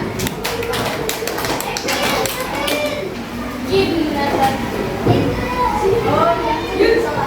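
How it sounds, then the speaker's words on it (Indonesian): Classroom of students giving a short burst of clapping, sharp hand claps in the first seconds, then fading into children's chatter and a voice talking. "Beri tepuk tangan."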